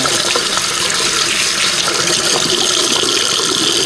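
A bathroom tap runs hard over makeup sponges being rinsed and scrubbed, a loud, steady rushing splash heard close up with no voices.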